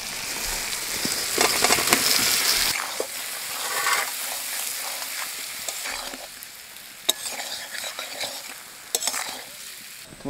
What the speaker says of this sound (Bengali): আলুটা একটু মশলার সাথে ভাজিয়ে নিলাম